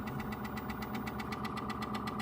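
Bambu Lab P1S 3D printer running its self-test, giving a steady mechanical hum with a fast, even pulsing vibration that continues throughout at close range.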